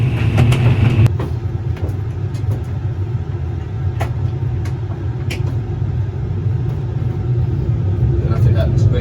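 Boeing 747 flight simulator engines at full power produce a loud, continuous low rumble that holds steady with a slow wind-up, while someone talks over it.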